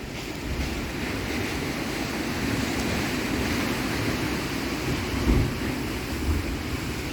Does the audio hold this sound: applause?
no